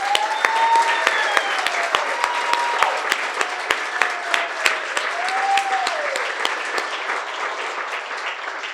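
An in-person audience at a year-end novel-writing reading applauds its writers, a dense, steady wash of clapping lasting several seconds, with a few faint voices and whoops rising over it.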